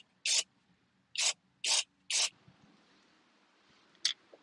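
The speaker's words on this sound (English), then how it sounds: "I am going to get a little bit of brake clean on these rotors though before we get too much further." Brake cleaner sprayed onto the brake rotors of a 2004-2012 GMC Canyon or Chevy Colorado in four short, loud hissing bursts, then a faint tick and one last quick spurt.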